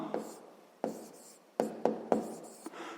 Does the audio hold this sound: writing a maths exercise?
yes